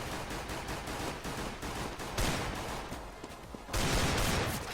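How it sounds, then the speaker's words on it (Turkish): Counter-Strike: Global Offensive gunfire rings out as continuous dense bursts that swell louder near the end, with no talking. "Alt taraftaki adamları vuruyor."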